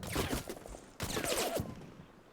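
Video game gunfire in two rapid bursts of crackling shots, the second starting about a second after the first, moderately loud and clear, with no talk.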